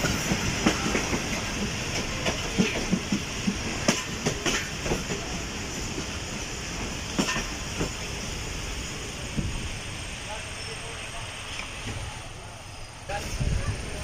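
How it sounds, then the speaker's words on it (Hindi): Awam Express passenger train pulling into Jungshahi railway station on a hot morning, a steady close rumble with scattered clacks and clicks of wheels that eases and quiets near the end, with faint background voices. "गाड़ी ने स्टॉप किया है जंगशाही रेलवे स्टेशन पर"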